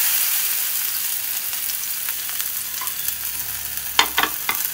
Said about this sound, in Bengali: এবার আমি সবজিগুলোকে আস্তে আস্তে কড়াইতে ছেড়ে দেব।